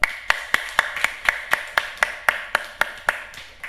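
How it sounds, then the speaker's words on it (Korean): A church congregation at a Korean Sunday worship service claps together in a steady unison beat, about four sharp claps per second, loud and close, with no voices over it. "예, 박수하겠습니다."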